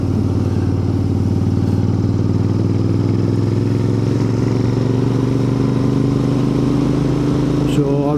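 A Royal Enfield Interceptor 650 motorcycle is ridden on a moorland road at Holme Moss, its engine droning loud and steady with a slowly rising pitch under heavy wind rush, no voices heard.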